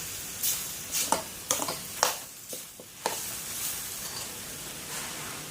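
Food stir-fried in a hot pan while making a Thai jackfruit salad with chicken, steady loud sizzling with several sharp scraping stirs of the spatula in the first few seconds.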